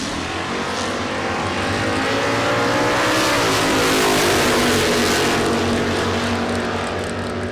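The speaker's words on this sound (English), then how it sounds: "The Fix Auto and DP Converters 72 Datsun 240Z with small block 355" A 1972 Datsun 240Z drag car with a small-block 355 V8 races past at full throttle, its loud, rising engine scream sustained and close throughout the pass.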